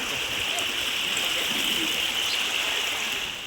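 Floodwater after torrential rain at Damodar Kund in Junagadh, near Girnar, makes a steady rushing roar like a stream, continuous and fairly close, with no speech.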